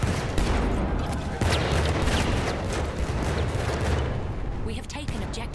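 Battlefield 1 combat with a grenade explosion and gunfire, a dense, loud barrage of rapid shots and booms throughout, with voices shouting beneath the noise.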